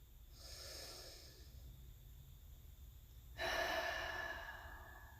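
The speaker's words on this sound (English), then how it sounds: "One more big breath." Slow, deep breaths, a soft long inhale followed by a louder, fuller exhale, close and quiet with no talking.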